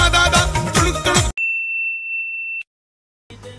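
A phone rings with a single clear, sustained electronic tone lasting about a second, right after loud music cuts off, then goes silent before sound resumes.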